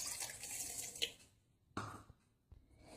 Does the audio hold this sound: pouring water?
yes